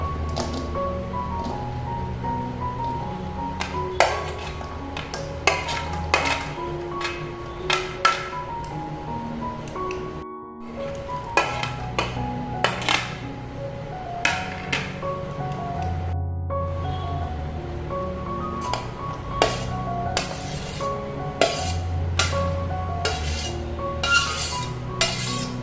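Chopped vegetables for a homestyle Kerala avial tipped into a steel wok, with repeated clinks and scrapes of utensils and dishes, the clattering bursts close and fairly steady throughout.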